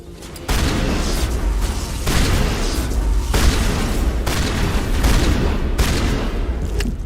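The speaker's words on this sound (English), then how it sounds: "Switch to shotgun." Sustained, loud shotgun fire from a Mass Effect 1 firefight, heavy booming blasts repeating every second or so over dense battle noise with no pauses.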